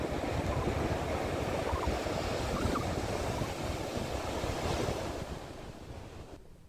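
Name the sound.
rough sea waves crashing during cyclone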